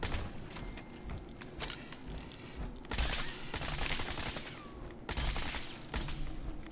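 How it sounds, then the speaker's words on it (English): Automatic assault rifle fire in the Fallout 4 video game rattles in dense bursts, with sustained rapid shots building into louder stretches partway through and continuing to the end, loud and close with no talk over it. "now let's see what the assault rifle can do"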